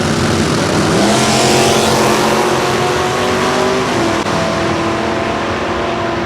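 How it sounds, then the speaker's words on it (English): Two door cars drag racing side by side in the Super Pro class, second round, at Lucas Oil Raceway: a loud, continuous, close engine roar whose pitch climbs steadily as the cars accelerate down the strip. "Pair of door cars running here in Super Pro, second round."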